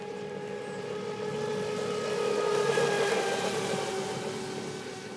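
A radio-controlled model boat's small engine whines at a steady high pitch on a speed run, rising and falling slightly as it passes at a distance, with faint outdoor ambience.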